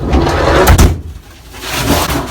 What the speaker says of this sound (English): when you hear this slam, anybody that knows a Volkswagen door slam